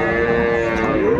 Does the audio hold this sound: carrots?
no